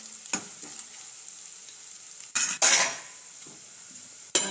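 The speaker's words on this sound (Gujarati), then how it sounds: "ડુંગળીને આપણે થોડી વાર માટે સાતળાવા દેવાની છે." Onions sautéing in a pan for dhaba-style sev tamatar sabzi, a quiet hiss punctuated by a few sharp spatula scrapes and two louder bursts of stirring and sizzling.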